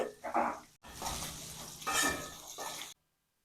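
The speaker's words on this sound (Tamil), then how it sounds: "வெங்காயம் போட்டு நல்லா வணங்க வைக்கணும்" Onions for a brinjal kuzhambu fry and are stirred in a pan, making short bursts of sizzling and scraping with brief pauses, close up before stopping abruptly into silence.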